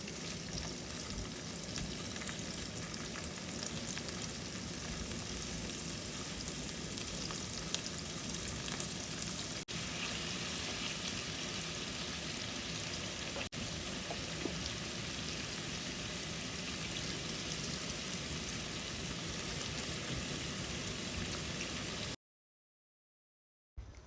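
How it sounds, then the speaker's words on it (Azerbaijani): Shrimp frying in hot butter in a pan give off a steady, dense sizzle that stays even and close for about twenty seconds before cutting out. "Kızan yağa krevetkaları əlavə edirəm."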